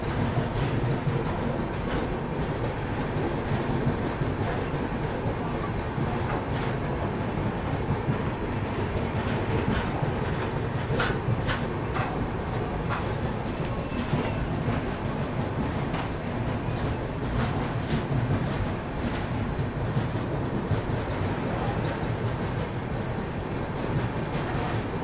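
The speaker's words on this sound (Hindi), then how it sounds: "मदारेवाड़ी फुलेरा मदार पैसेंजर ट्रेन है कोई।" An Indian passenger train rolls along the railway near a station, giving a continuous close rumble with faint wheel clatter and brief high squeals, steady throughout.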